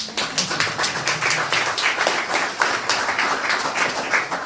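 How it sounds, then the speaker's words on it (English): Audience at a political speech breaking into a round of applause, steady dense clapping from many hands, close and continuous with no talk over it. "I think that's worth a round of applause."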